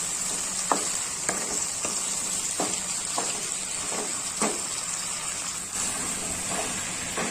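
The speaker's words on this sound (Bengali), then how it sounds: "কষিয়ে নিতে হবে, যাতে করে এর আদা রসুনের গন্ধটা চলে যায়। তো এইভাবে করে আমি 2 মিনিট মতো কষিয়ে নেব।" Chicken being sautéed with ginger garlic paste in a pan while cooking chicken with potatoes: a continuous sizzle with regular scraping strokes of a spatula stirring, close and steady, with no voices.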